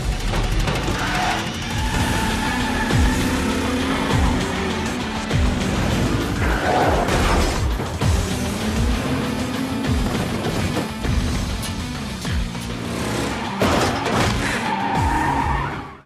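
Race cars roar off the line at the start of the Death Race in a film scene, with a loud, dense engine drone, repeated tire squeals and skids, and crunching impacts throughout.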